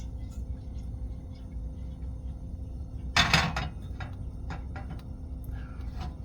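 A new pan clanks as it is grabbed and set down on a stove burner, one brief metallic clatter followed by a few lighter knocks over a low, steady hum.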